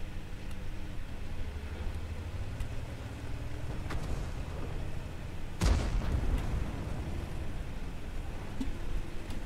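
Tank cannon shot in the World of Tanks video game: one loud, sharp boom with a broad crack and rumbling tail, set against steady engine drone and battle noise.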